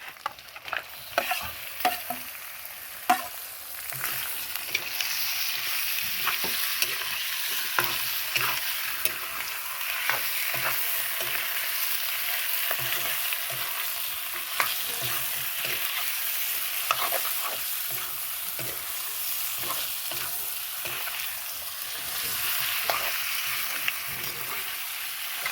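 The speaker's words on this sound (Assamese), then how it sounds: "এতিয়া মাংস দি দিম এতিয়া এয়া চক পূৰা মাংস ঢালি দিম" Pork meat sizzles and fries steadily in hot oil with garlic and ginger paste, a close, continuous crackle broken by frequent sharp scrapes and taps of stirring.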